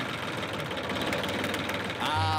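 A diesel engine turned over with a universal engine starter runs roughly with a steady low rumble, then its tone shifts near the end as it stalls; voices talk over it.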